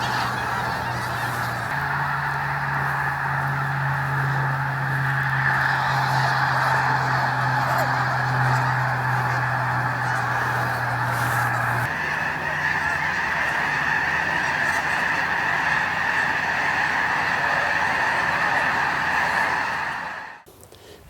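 A large flock of geese honks loudly and continuously in a winter field in the Skagit area, a dense chorus of overlapping calls that holds steady before cutting off abruptly near the end.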